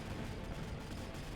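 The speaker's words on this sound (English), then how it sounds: "It's so funny to see the Rhinos exploding all at the same time especially." Rhino units blowing up together in the strategy video game Mechabellum, a dense, continuous rumble of overlapping explosions and gunfire-like blasts with no gaps, loud and low-heavy throughout.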